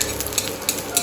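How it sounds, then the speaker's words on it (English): An omelette frying on one side in a pan, a loud close crackling sizzle with quick bursts of spatter, no voices. "I'm going to fry it only on one side."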